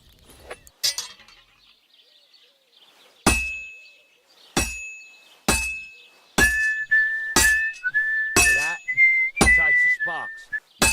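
Hammer blows ring on metal at an anvil in the video game Kingdom Come, about eight loud, clear strikes spaced roughly a second apart with bright ringing tails, plus a sustained whistling tone in the later hits.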